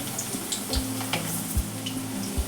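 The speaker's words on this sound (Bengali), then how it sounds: "এখন আলু ভাজা করছে" Potatoes fry in a pan in a home kitchen, giving a steady, close sizzle with a few dull knocks from stirring or the pan throughout.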